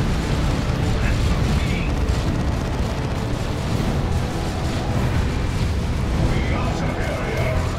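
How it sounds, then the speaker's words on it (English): Autocannon fire and explosions in the Dawn of War II: Retribution video game form a dense, continuous roar of booms and bursts, loud and unbroken throughout. "Autocannon behind it."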